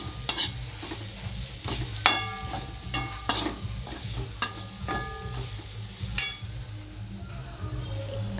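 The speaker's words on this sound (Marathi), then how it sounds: "तर हे लाल तिखट पण आपल्याला यात मिक्स करून घ्यायचं आहे" Red chili powder being stirred into a kaju kadhi masala in a pan, a spoon scraping and clinking in steady repeated strokes over a soft continuous sizzle, close and fairly loud with no talking.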